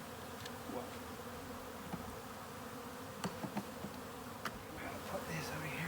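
Honeybees buzzing around a hive as it is moved outdoors, a steady faint drone of many bees throughout with a few soft knocks and taps, no talking.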